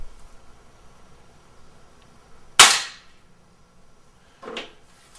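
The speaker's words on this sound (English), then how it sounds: "Load the gun. And you're really just going to do the same thing," Gunshots fired outdoors across the sky screens of a shooting chronograph fitted with sunlight diffusers: one sharp, loud crack, then a second, fainter report about two seconds later, over quiet background.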